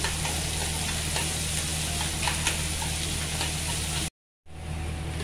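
Finely chopped onions fry in a pan with a dense, constant sizzle like heavy rain, broken by a brief dropout near the end before the sizzle resumes.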